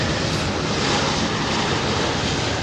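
A jet airliner fitted with Rolls-Royce Trent 800 engines roars steadily at London Heathrow, a loud broadband engine rumble that holds even throughout.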